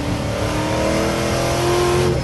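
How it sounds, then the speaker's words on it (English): Ronaele 700R Mustang engine revving under a light throttle, a loud steady roar that rises slowly in pitch, close and continuous with no talking. "I just pick up the throttle a little bit and it steps right out."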